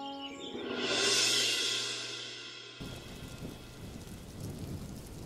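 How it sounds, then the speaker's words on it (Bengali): Heavy rain and a thunderstorm, with a swelling rumble of thunder rising and fading over the first seconds, then steady, dense rainfall hissing on surfaces with no voices. "বৃষ্টি তো বাড়ছে, মনে হচ্ছে ঝড় বৃষ্টি হতে পারে।"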